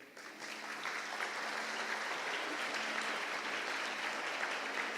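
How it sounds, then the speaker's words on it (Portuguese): A church congregation applauds the Lord during a sermon on perseverance, a soft, even patter of many hands heard from a distance, steady throughout with no talk over it. "Você pode aplaudir ao Senhor por isso?"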